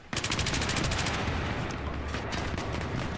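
Rapid automatic gunfire and explosive frag rounds in a Battlefield 3 Metro battle, loud sustained bursts of shots close by, thinning into scattered cracks and a distant rumble.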